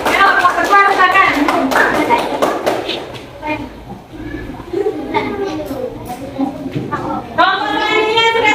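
Classroom applause for a student group, dense clapping from many hands through most of the stretch, with children's voices and talk mixed in and a teacher speaking near the end.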